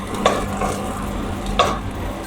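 Onion frying in a pan for a zucchini lasagna, with a steady low sizzle and two sharp stirring scrapes against the pan, close and alone without talk.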